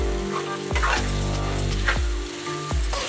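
Chicken pieces sauté in masala for a Tamil-style chicken gravy, giving a steady close sizzle with occasional sharper crackles and stirring bursts throughout.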